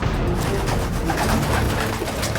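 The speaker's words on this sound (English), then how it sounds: "It's the pigeon just flying around." A pigeon flutters and coos inside a restaurant kitchen, its soft calls and wing noise partly buried under a dense, constant background of kitchen clatter and room noise.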